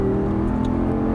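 Audi R8 V10 with 525 hp accelerating hard at full throttle on a driving course, a steady loud engine drone holding close and constant throughout.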